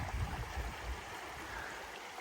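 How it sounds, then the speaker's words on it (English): A small woodland stream, Brown Creek, runs past former pasture land. Its water gurgles and washes softly and steadily, close by and faint, with no talking. "Just walking along this little stream here"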